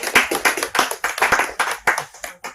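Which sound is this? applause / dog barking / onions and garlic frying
applause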